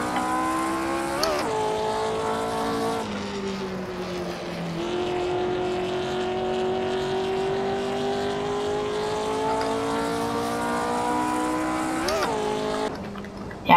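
A race car engine in Assetto Corsa is heard from an outside view, droning steadily and climbing in pitch through several gear changes, with brief quick shifts near the start and the end.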